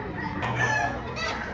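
Chickens cluck and a rooster's crow rings out briefly amid a noisy, crowded background at a chicken market in Lipa, Batangas.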